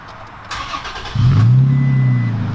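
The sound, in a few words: truck engine with aftermarket exhaust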